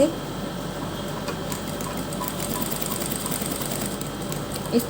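A sewing machine runs steadily, stitching a lace strip onto fabric, a fast even mechanical whir with light ticking, close by and continuous.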